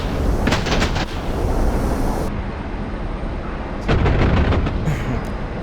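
Heavy, booming cannon fire from a MiG-15bis in the DCS combat flight simulator, two loud bursts of thudding rounds separated by a stretch of engine rumble.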